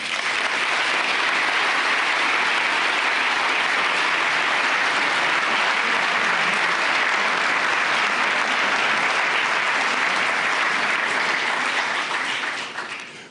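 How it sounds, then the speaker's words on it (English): Sustained applause from a large audience at the Munich Security Conference welcoming President Macron of France, dense and steady for the full length before tapering at the very end. "I would hope that you will all give President Macron a warm applause of welcome."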